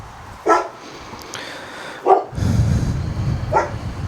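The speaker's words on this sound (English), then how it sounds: "Oh, these dogs." Dogs bark in short separate bursts, a few sharp woofs spaced over several seconds at moderate distance, with a low rumbling background between them.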